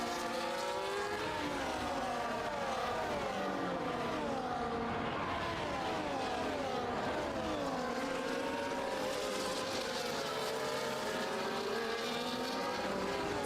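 Several Formula 1 cars from the racing game F1 24 on the Singapore circuit scream past with rising and falling high-revving engine notes and overlapping whines, loud and continuous throughout.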